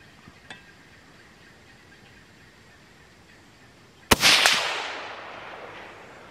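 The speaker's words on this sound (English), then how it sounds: "Alright, I'm gonna shoot again." A single sharp shot from a 17 HMR rifle at an outdoor range lands about two-thirds of the way through. It is loud and close, with a long decaying echo after it. A faint click comes near the start, and no one speaks.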